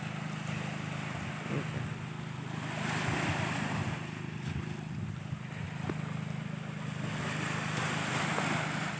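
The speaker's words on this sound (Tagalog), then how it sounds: "Maingay na yung alon." Surf washing against a rocky island shore in the provinces, a steady broad roar of waves with gusty wind buffeting the microphone, fairly faint and continuous without talk.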